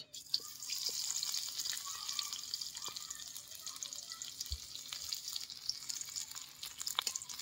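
Chopped onions frying in hot mustard oil, a soft, steady hiss and crackle heard close with occasional light stirring clicks and no talking.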